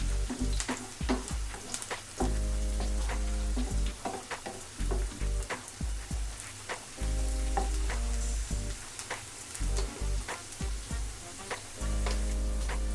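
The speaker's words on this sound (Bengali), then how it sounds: "পেঁয়াজ রসুনটা একটু ভেজে নিব" Onion and garlic frying in oil in a pan for a taro leaf dish, a loud continuous sizzle broken by repeated stirring scrapes and knocks.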